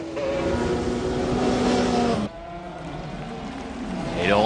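A McLaren race car at the 1995 Le Mans 24 Hours race roars close and loud, its engine note dropping sharply under hard braking into a chicane, then climbing again as another car approaches.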